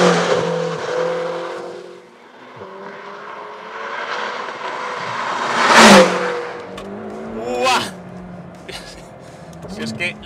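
A 2022 McLaren GT's engine revs hard as the car accelerates, rising in pitch through several gears with loud peaks and brief dips at each shift, heard close from inside the cabin while someone talks over it.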